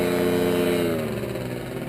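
A paramotor engine drones steadily in flight during a training session near Paris, its harmonic hum loud and continuous, easing slightly in pitch partway through with no talk over it.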